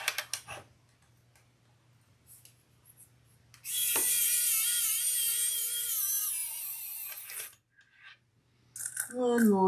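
Tiny screw driven into a leather crossbody bag by a small electric driver, a steady high whine lasting several seconds, with quiet clicks and handling noises before it and a brief second burst at the end.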